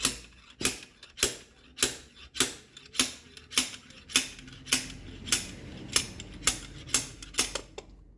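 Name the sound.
blind bearing puller pulling an injector out of Jaguar engine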